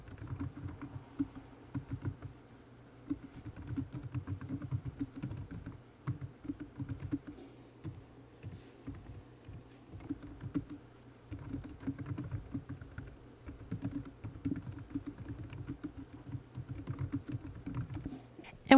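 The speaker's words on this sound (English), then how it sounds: "now you can type your message you want to send" Steady typing on a computer keyboard runs on and off in rapid bursts of soft clicks, fairly quiet and close, with brief pauses between runs of keystrokes and no voices.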